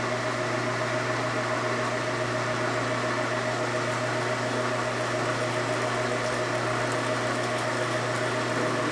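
A machine turns at a slow 58 RPM during front suspension repair on a 1946-55 Willys Jeepster 2WD, giving a steady, continuous mechanical hum with a constant drone throughout.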